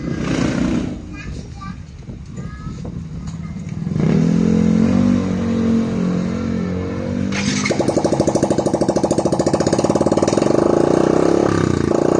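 A motorcycle with RB8 mag wheels fires up after some handling noise and settles into a loud, close idle, its engine note rising into a steady rapid putter near the end.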